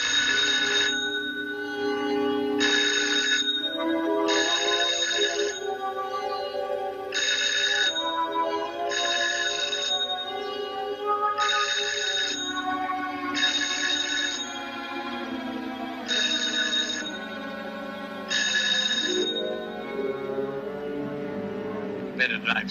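A telephone rings over and over in a steady repeating pattern, with music playing underneath.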